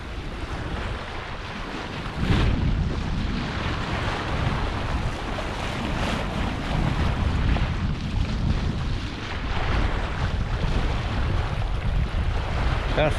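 Gentle wind and lapping water aboard a small sailboat sailed single-handed near Dunoon on the West Coast of Scotland, a steady broadband rush of breeze and wash that swells slightly after the first couple of seconds and holds throughout.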